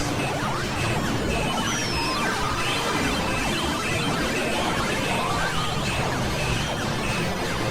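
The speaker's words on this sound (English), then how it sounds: "It's just a complete cacophony of every sound of every game all coming at you at once" A dense, constant wall of overlapping electronic bleeps, whooshes and jingles fills a retro video game arcade, many game sounds colliding at once with no pauses.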